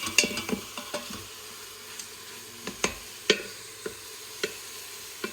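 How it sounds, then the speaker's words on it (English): Garlic stirred in a hot Instant Pot while making Taiwanese braised pork belly: a faint sizzle under sharp scattered clicks and scrapes of a utensil against the metal pot, irregular and close. "So we'll start by adding in the garlic. This is 2 teaspoons of garlic."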